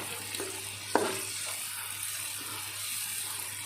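Crickets dry-roasting in a pan give a steady, close sizzling crackle, broken by a few sharp scraping stirs near the start.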